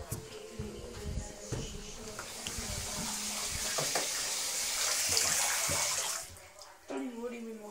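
Tap water pours steadily into a container, a continuous splashing rush that grows fuller as it fills, then cuts off near the end, leaving a few faint drips and gurgles.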